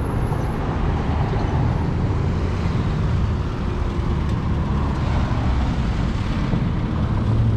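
Car traffic rolls along a street in Ecuador, a steady broadband rumble of passing vehicles at moderate distance, continuous and fairly loud, no clear voices.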